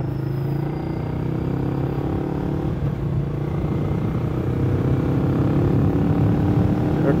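A Benelli motorcycle, an Imperiale 400 or TNT 600, on a test ride: a steady, loud engine drone with a low rumble and wind noise, holding a constant pitch throughout with no talking.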